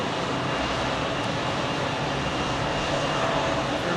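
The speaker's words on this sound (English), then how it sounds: "Looks like we got a Neo pushing back here" An American Airlines A320neo pushes back at Phoenix Sky Harbor, its engines giving a constant, fairly loud broadband whine and rumble with no break.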